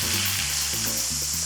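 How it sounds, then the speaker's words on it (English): Onions fry in a pan, giving a loud, steady close-up sizzle with a faint stirring scrape underneath. "now I'm gonna add my onions, and we're gonna make these nice and brown."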